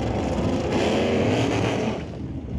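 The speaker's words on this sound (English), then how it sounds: "lot of tire spin for John as he gets off the throttle" Loud, steady engine roar from a 1970 Plymouth Barracuda at an NHRA Summit ET drag race, its harsh tone sustained with the tires spinning before it eases slightly as the throttle lifts.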